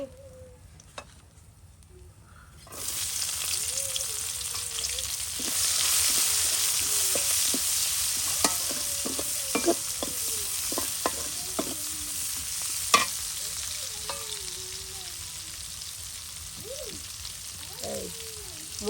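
Tilapia frying in a pan with onion and garlic: quiet at first, then a steady hissing sizzle starts, with a few stirring knocks and high whistling tones drifting over it.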